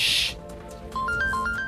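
A mobile phone ringtone plays a short, bright melody of rising and falling electronic tones, close and clear, starting after a brief burst of hiss.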